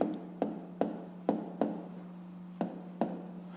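A pen writes on paper while a fifth-grade maths exercise is worked through, giving a quiet, close series of about eight scratchy strokes, each starting with a sharp tap, over a faint steady hum.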